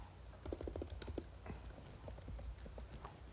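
Quick bursts of keystrokes on a computer keyboard while entering a command in RStudio, close and fairly quiet, tapping in a short rapid run and then continuing more sparsely.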